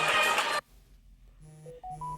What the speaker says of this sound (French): Téléphone ezali ko sonner bolimbisanga.